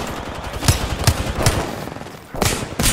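Rapid gunfire in a first-person shooter video game: three evenly spaced shots, then a burst of two more, loud over constant game background noise.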